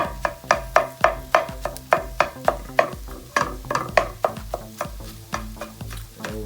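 A utensil strikes a pan over and over while hot dogs and eggs are cut up, sharp regular knocks and scrapes about twice a second over a soft sizzle, close and loud.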